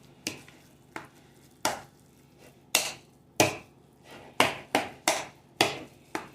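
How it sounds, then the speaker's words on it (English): Homemade mashed potatoes being mixed in a bowl produce a series of sharp, irregular knocks and thumps as the utensil strikes the container, about a dozen close, distinct hits with short pauses between. "So now what I'm going to do is mix it all up"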